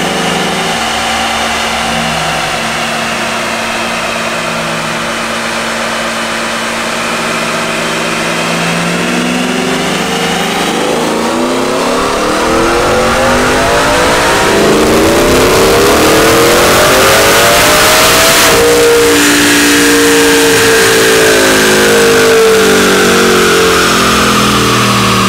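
A supercharged 800 hp Shelby F150 Super Snake pickup with a race-ported Whipple blower, running on E85, idles loudly and then revs repeatedly, its engine note climbing and falling with supercharger whine, heard close with no talk.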